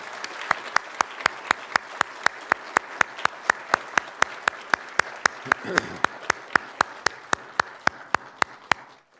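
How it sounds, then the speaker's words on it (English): Audience applause for students at a state poetry recitation final, with a steady, evenly spaced beat of sharp claps standing out over a denser wash of clapping from the hall. "Let's give a round of applause for our students."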